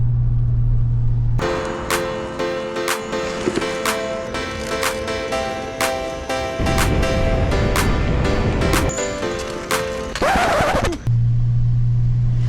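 A trike's engine drones steadily while riding down a road on a cool fall day, with loud rhythmic ticks and shifting wind over the continuous hum.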